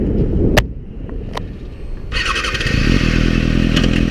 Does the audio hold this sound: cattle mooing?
no